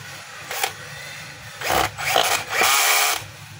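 Cordless screwdriver driving screws into the plastic cover of a Black and Decker GL5530 string trimmer, a few short whirring bursts close by, with quieter handling noise in between.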